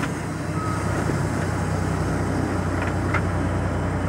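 A loaded truck carrying about 18.5 tons of rock, with an Eaton 9LL transmission, idles and pulls on a hill; a steady loud diesel rumble fills the span, with faint brief tones over the engine noise.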